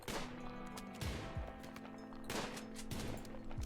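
Gunfire in the Rimworld video game as a tribal colony attacks a huge creature in a swamp: scattered, fairly quiet bursts of shots layered with game effects, faint and somewhat distant.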